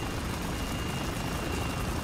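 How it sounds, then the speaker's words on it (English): A helicopter in the military shooter Spec Ops: The Line gives a continuous, dense rotor-and-engine roar that stays level and close throughout. "And that is a helicopter."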